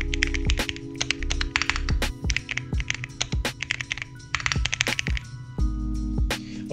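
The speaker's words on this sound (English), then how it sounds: "you just have basically a paragraph, you need to type it, and it will tell you your speed" Someone types a paragraph on a computer keyboard during a typing speed test, producing quick, irregular bursts of crisp key clicks and heavier thuds from larger keys, close and clear with no talk.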